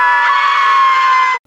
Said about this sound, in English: I'm pretty sure you could just play that scream anywhere and it'll get a laugh